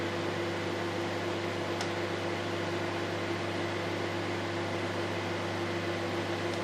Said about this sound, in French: rester toujours proche du micro-ondes et attendre que ça bout correctement